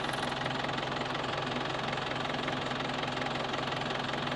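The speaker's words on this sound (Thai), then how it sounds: "เครื่องยนต์ก็สตาร์ทเอินเบาได้ไม่มีปัญหาเนาะ" A Nissan Big-M single-cab pickup truck engine idles close by, a low rhythmic rumble with a faint knocking beat running evenly throughout, with no voices.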